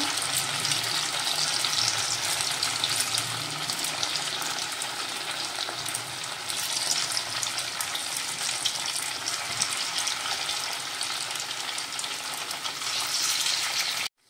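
Small fasting bhaji made from sabudana and potato fry in hot oil, giving a loud, continuous, hissing sizzle that stays steady throughout with no voices.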